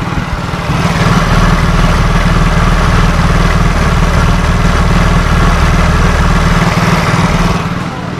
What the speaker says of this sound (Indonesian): langsamnya itu tidak enak.